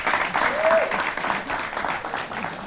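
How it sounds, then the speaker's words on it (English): A studio audience claps in a steady, lively round of applause on a talk show, and a voice is audible briefly over the clapping. "A round of applause for her."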